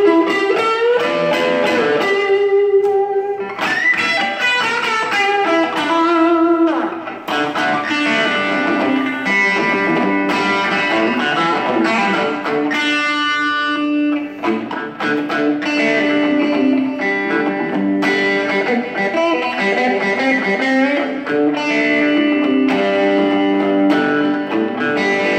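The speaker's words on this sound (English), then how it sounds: "it's one of the best little boosty kind of distortion pedals I've ever had" Electric guitar played through a cheap boost-style distortion pedal, loud and continuous, with driven chords and ringing sustained notes carrying a gritty, saturated edge and a little reverb throughout, no voices.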